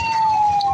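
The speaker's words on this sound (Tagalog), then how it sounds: "May ambulansya ba? Tsaka fire truck." An emergency vehicle siren, ambulance or fire truck, in flood traffic, a loud, close steady electronic tone held through a brief moment over low rumbling background.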